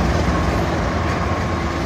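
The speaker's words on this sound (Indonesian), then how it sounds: "Kereta api barang ini akan melintasi ya, akan memasuki stasiun" A container freight train hauled by a CC206 locomotive approaches Jatinegara station, giving off a loud, steady rumble of rolling wheels and engine throughout the short stretch.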